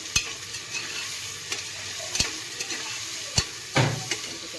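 Vegetables and tomatoes stirred in a frying pan with mustard seeds and cumin, a spoon scraping and knocking the pan in a few distinct close clacks over a faint sizzle.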